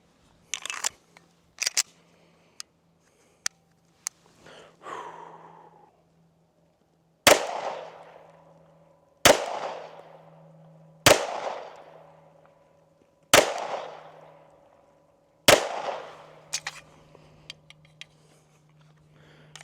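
Pistol firing 115-grain big-box ammunition at an outdoor range: five sharp, loud shots spaced roughly two seconds apart, each with a ringing decay, after a few lighter clicks and handling noises, with a low steady hum underneath.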